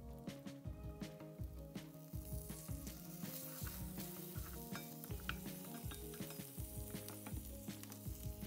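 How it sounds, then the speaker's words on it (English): Chopped bacon sizzles steadily in a pan, getting crispy, with a constant crackling hiss and intermittent scraping and stirring sounds close by, fairly quiet overall. "that bacon is sizzling, it's getting crispy"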